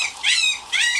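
Puppies yelping in high-pitched bursts, two clear cries about half a second apart, fairly loud and close, during a police rescue of dogs found by a roadside stop.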